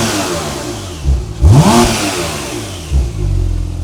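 A Porsche 911 Turbo S engine, still cold, revs up sharply with a rising roar, drops back, then gives a second shorter blip over a rumbling idle.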